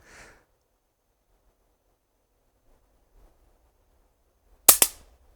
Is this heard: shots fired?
yes